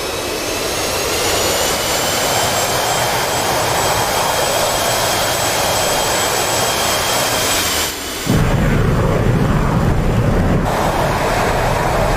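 A military jet in the DCS World flight simulator roars on takeoff, a loud, steady engine whine and rumble that briefly dips before surging even stronger as thrust builds.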